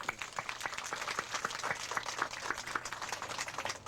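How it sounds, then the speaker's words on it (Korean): A church congregation at a 1998 groundbreaking service claps steadily in a dense, even round of applause that fills the room and lasts throughout, with no one speaking. "예, 박수 한번 하십시오."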